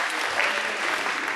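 A lively after-prom hypnotist show crowd claps steadily in a dense, continuous burst of applause that stays at an even loudness for the whole moment.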